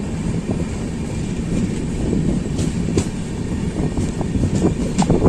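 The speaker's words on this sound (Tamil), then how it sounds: "லோக்கல் ட்ரெயின் கிராசிங் எல்லாம் ஸ்டார்ட் ஆக ஆரம்பிச்சிருச்சு." A local train rumbling past close by, steady heavy rolling noise with faint rhythmic clacks of wheels on the rails.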